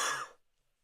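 A single short cough, close and fairly loud, dying away quickly into near silence.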